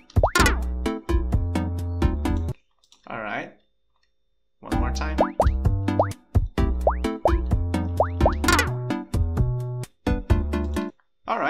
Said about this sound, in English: we have the fail sound working right now